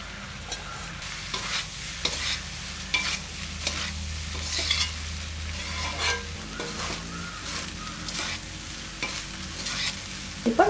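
Cooked rice being stir-fried for chicken egg fried rice, a steady sizzle under repeated scraping and tossing strokes of a spatula in a pan, close and continuous with no talking.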